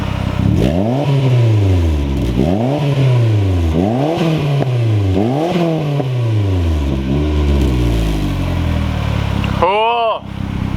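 A warmed-up Mazdaspeed Protege5 turbo engine revs loudly and close in about five repeated climbing sweeps over a steady idle, with a quick high turbo whoosh near the end.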